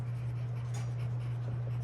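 Pen or pencil scratches on colored paper while a name is written, faint strokes against a steady low electrical hum.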